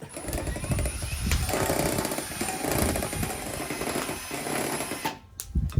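A large beater churns cream into butter beside a campfire, giving a steady, loud mechanical rattling that runs nearly the whole time before briefly dropping off near the end.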